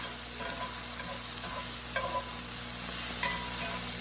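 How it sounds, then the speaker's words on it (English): Chopped cherry tomatoes frying in oil in a pan, stirred with a few scraping strokes over a steady close sizzle, no voices. "So I'm just going to throw in some regular chopped tomatoes. It's about 5 cherry tomatoes. Give them a quick stir."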